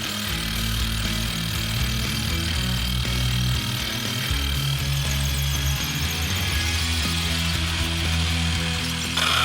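A power drill bores a hole in a garage job, a continuous loud grinding whir with a rattling, ratchet-like texture and shifting pitch as the bit works through the material, with no voices over it.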